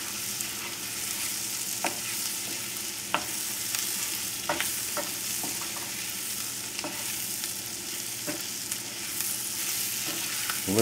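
Garlic and shallots sizzle in butter in a pan, a steady broadband crackle running throughout, with occasional scrapes and taps of stirring scattered over roughly eleven seconds; no one speaks.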